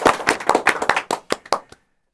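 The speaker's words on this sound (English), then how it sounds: "We all have a round of applause." A live broadcast audience gives a short round of applause for a contest winner, a burst of close, dense hand claps that thins into a few separate claps and stops abruptly.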